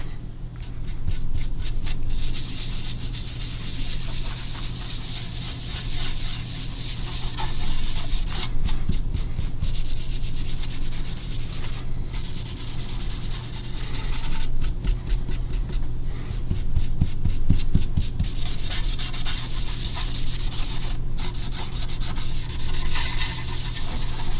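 A cloth rubs stain into a quilted maple guitar top during a dark honey burst finish, giving a steady, close scrubbing and brushing sound with short rhythmic strokes that swell and ease throughout, with no voices.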